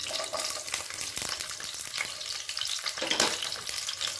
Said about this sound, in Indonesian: Kemudian kita masak bawang putihnya.